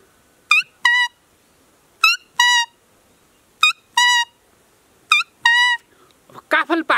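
A musical car horn plays a cuckoo call tune: four loud, clear two-note pairs spaced evenly apart, followed by a brief burst of a different sound at the end.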